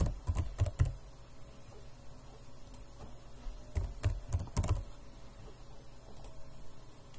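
A password is typed on a computer keyboard in quiet bursts of soft, close key clicks separated by pauses, with no talking.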